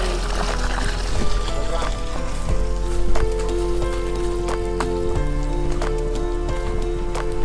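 Water drops and splashes from a drum in a pressured auto water pump setup drawing from a deep well, giving a continuous rain-like patter with steady low hum beneath and occasional louder splashes.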